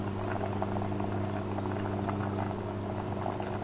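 Besan gatte dumplings simmer in a pot of water, giving a steady close bubbling and gurgling boil with no talking.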